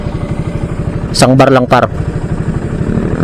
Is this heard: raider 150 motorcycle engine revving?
yes